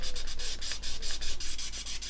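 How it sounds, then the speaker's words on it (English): Sandpaper rubbed in small circles over the painted curved surface of a scale model, a close, steady scratchy rasp that swells and fades in a regular rhythm, with no voices. "sanding in circles just lessens the risk of putting angles into the paint layer basically"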